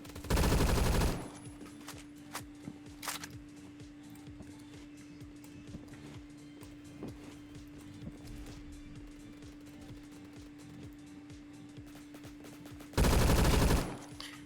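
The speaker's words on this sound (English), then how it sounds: "Let's try a battle rifle." A battle rifle fires in a video game, a run of rapid, sharp shots under steady background hum, framed by two loud, sustained noise bursts at the start and end.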